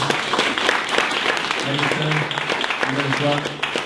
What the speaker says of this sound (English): One more round of applause for David Murray